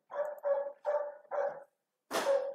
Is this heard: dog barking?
yes